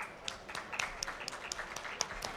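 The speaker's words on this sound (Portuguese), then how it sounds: "Uma salva de palmas." An audience claps for panel speakers at a climate resilience conference, a short burst of moderate applause with distinct individual claps in a hall.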